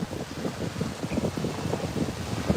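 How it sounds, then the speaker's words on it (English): Strong wind buffets the microphone at sunrise in Playa del Carmen, Mexico, a steady broadband rumble with gusty pulses and no voices. "Super windy, guys"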